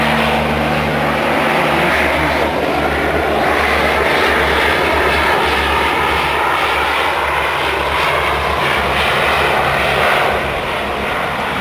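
Water-scooping firefighting airplanes pass overhead, a loud, sustained propeller-engine drone that holds strong for about ten seconds before easing slightly. No voices are heard.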